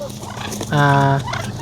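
A duck gives a loud, nasal, harmonic honk in the middle, with fainter squawks and rustling around it, close by, as ducks are caught.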